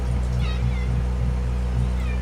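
Several cats meow in short repeated calls, fairly close and clear over a constant low hum, in a quiet indoor setting.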